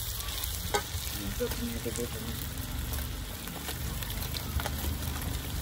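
Liver frying with spices in a pan on a clay stove, a steady close sizzle with occasional stirring scrapes and faint background voices.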